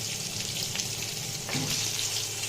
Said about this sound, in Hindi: ये फ्राई हो चुका है मछली अच्छी तरह से।